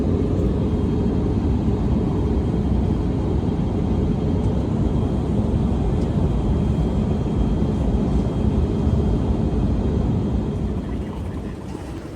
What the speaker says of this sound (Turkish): Uçağımız yaklaştı.